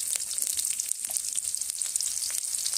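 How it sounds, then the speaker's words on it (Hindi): Chopped onions frying in hot oil with popped cumin seeds for a fish curry, giving a dense, loud, continuous sizzle close by with light stirring clicks and no voices. "पियाजटा को आम तेल सहित भल भाव में फ्राए करना।"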